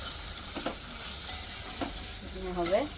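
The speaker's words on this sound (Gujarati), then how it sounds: "તો હવે આની અંદર આપણે નાખી દઈએ ટામેટા, ચોપ કરેલા બારીક ટામેટા." Finely chopped tomatoes go into a pan of nearly cooked onions for a garlic-fenugreek gram-flour curry, a soft sizzle running under a few scraping stirs of a spoon against the pan.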